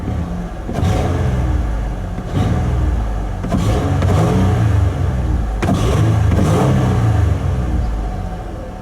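A rusty Ford Freestar minivan with a 4.2 V6 revs in several repeated bursts, each rising and falling over a steady idle, close and loud with no talking.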